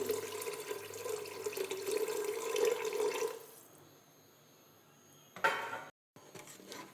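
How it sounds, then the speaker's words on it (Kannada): Rice-soaking water pouring steadily into a pot for ghee rice for a few seconds, then stopping, followed by a brief clatter of a vessel. "ಫಸ್ಟ್ ನೀರನ್ನು ಹಾಕ್ಕೊಳ್ತೇನೆ."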